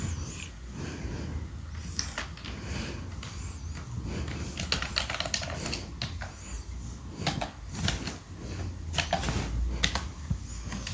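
Fingers type a short command on a computer keyboard and then press the enter key, a run of close, irregular key clacks over a steady low hum.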